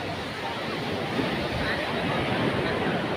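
Sea waves at Nagoa Beach in Diu, a continuous broad wash of surf mixed with wind buffeting the microphone, steady and fairly loud with no distinct breaks.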